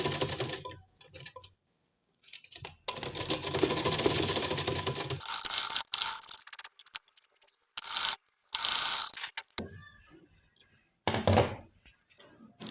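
Sewing machine stitching over elastic on a garment, running in several bursts of mechanical whirring separated by pauses, fairly close and moderately loud with no talking.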